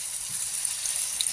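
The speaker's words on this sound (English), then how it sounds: "now the pan is hot, so I'm just gonna place my steak like so" A steak with some fat left on hisses in a hot pan, a steady bright sizzle held close and unbroken, with no talk.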